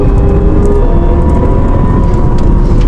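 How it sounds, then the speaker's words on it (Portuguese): A loud, steady roar of an electric Porsche sports car launching hard with launch control on the Interlagos circuit, with continuous broadband road and motor noise throughout and no talking. "fez o launch control acelerando"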